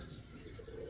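A racing pigeon coos softly in a loft, a low, faint murmur under steady background noise for about a second.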